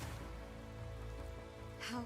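Steady, soft patter of rain in the Fire Emblem game, a faint continuous wash under low background music.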